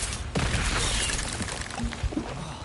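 Bombarda spell explosion in Hogwarts Legacy: a sharp, loud blast followed by rumbling debris and scattered crashes fading over a couple of seconds.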